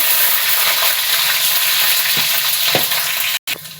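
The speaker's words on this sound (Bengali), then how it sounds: "লঙ্কাটা ভাজা হয়ে গেছে।" Green chili sizzling in hot oil with a bay leaf, dried red chili and cumin, a loud continuous spitting fry close by, a few soft stirring knocks, then a brief dropout near the end.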